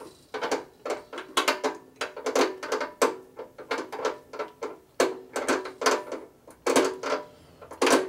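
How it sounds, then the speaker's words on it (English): Ratchet wrench working the lug nuts on a 1965 Harley-Davidson panhead's wheel, a steady series of close, loud bursts of clicking strokes repeated rhythmically with short pauses between. "I need to get to undo the lug nuts again"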